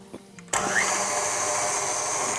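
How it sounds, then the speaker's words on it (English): A stand mixer with a whisk attachment kicks on abruptly and whips a cup and a half of heavy whipping cream, a close, steady whirring drone after a brief quiet moment. "I'm using my whisk attachment. And I'm just gonna whisk this up."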